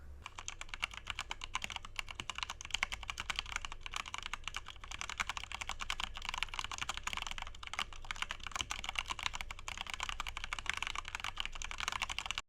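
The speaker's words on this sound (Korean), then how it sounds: "속삭임 모드는 ASMR을 할 때 사용하기 좋은 모드인데 키보드 타건을 녹음해봤습니다." Continuous, fast typing on a computer keyboard recorded by a desktop microphone in whisper mode, dense rapid key clicks at an even pace, soft and close, with no talking.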